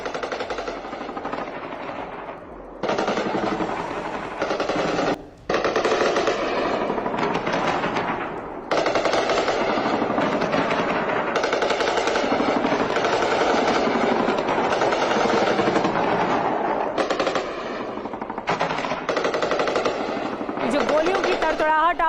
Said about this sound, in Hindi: तालिबानी सेना लगातार पाकिस्तान आर्मी पर फायरिंग कर रही है।